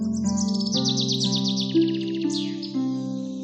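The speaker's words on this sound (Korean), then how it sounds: "죽은 개 소녀가 숲을 걷는 동안 아름다운 새가 그녀의 머리 위로 날아갔어요." A cartoon bird chirps as it flies overhead in an animated fairy tale: rapid, bright, trilling tweets in quick bursts over soft, sustained background music.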